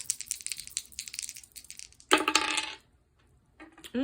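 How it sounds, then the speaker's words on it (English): Dice rattle and tumble during a tarot reading, a run of light clicks and shakes followed by a loud clattering roll that settles into silence, then a brief final tap. "Let's get to the dice, see what numbers could be coming up for you."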